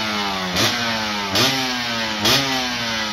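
A two-stroke motorcycle engine runs at a steady idle, then is blipped three times in evenly spaced quick revs, each rising briefly and dropping back, heard close and clear.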